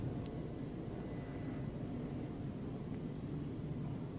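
Steady broadband jet roar from a Marine Fighter Attack Squadron 115 F-4B Phantom II loaded with 12 bombs and a centerline drop tank, taxiing out for takeoff, constant and unvarying at moderate distance.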